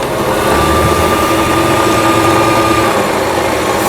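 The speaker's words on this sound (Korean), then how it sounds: "보시는 것처럼 아주 부드럽게 북실 감기 장치만 작동되는 것을 보실 수가 있겠습니다" Brother VX1110 sewing machine running with only its bobbin winder engaged, a steady close motor whir with a thin constant whine that continues evenly throughout.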